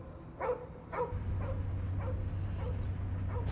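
A dog in the Guardians of the Galaxy video game barks and yips in a steady series of about six short, sharp barks, fairly close, over a low humming game background.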